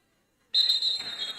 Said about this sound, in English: That would have been an inadvertent whistle from someone.